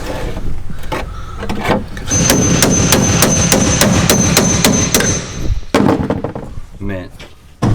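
Rapid, regular hammer blows ring on metal while fabricating a transmission tunnel in a Honda Civic, a quick burst of evenly spaced strikes followed by a few scattered knocks, with voices speaking in between.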